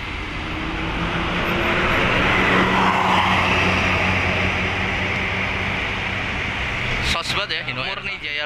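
A Hino Murni Jaya double-decker bus drives along a road, a steady loud rumble of engine and tire noise that swells mid-way, with a brief burst of a voice near the end.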